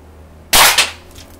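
A single sharp shot from an Air Venturi .25 caliber air rifle, fired at granite, sounds as a loud, close crack with a brief secondary snap and a short decay.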